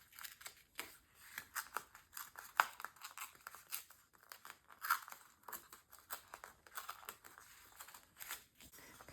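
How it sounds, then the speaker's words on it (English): Lined paper being torn by hand so its edges look like ragged parchment, a close, quiet run of small rips and crinkles going on steadily with no talking. "I'm going to tear this so it looks more like torn parchment"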